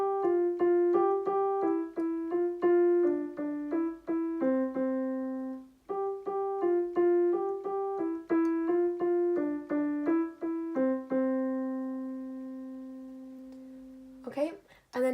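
Piano plays the Riverdale theme melody, two slow repeated phrases of single notes descending in clear steps and ending on long sustained tones, with a brief rustle at the end.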